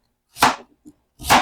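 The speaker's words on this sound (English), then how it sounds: "Let's start by cutting up the sweet potato into pieces," A knife cuts through a sweet potato on a board, two distinct close chopping thuds about a second apart with a faint tap between them.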